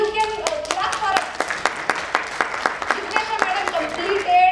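Scattered, uneven hand claps from a small audience at a company event, sharp individual claps rising and falling over a few seconds, with voices talking through them.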